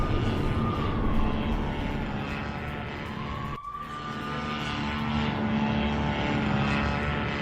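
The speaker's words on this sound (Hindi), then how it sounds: "ये देखिए ड्रोन अटैक की तस्वीरें, किस तरीके से ड्रोन से ये बॉम्ब नीचे गिराया जा रहा है" Attack drone overhead in war footage from the Israel-Gaza conflict, a loud continuous propeller-engine drone with a steady buzzing tone that sweeps slightly in pitch, briefly dipping midway and then resuming, with no talk.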